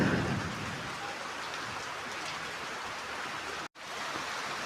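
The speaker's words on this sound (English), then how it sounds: "let me walk in this frickin' pitter patter because I dig it." Steady rain pattering down outdoors in the Philippines, a dense continuous hiss of drops with a brief dropout near the end and no talking.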